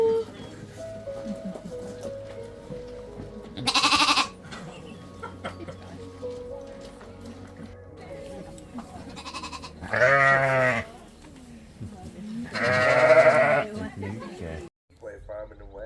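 Sheep on an Irish sheep farm bleat in several loud, separate calls close by, spread out between long stretches of talking.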